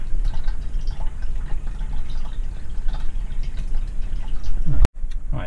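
Water runs steadily into a motorhome's fresh water tank, a continuous close splashing rush that fills the whole stretch before cutting off abruptly near the end, then a brief quieter trickle.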